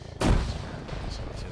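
A grenade blast in the military shooter ARMA 3: one sudden heavy boom that rings out, followed by a rumbling tail and faint background game sounds.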